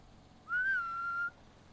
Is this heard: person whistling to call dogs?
yes